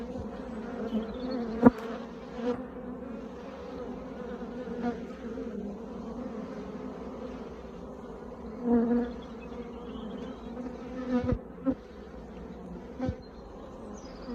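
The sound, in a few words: honeybees buzzing at a hive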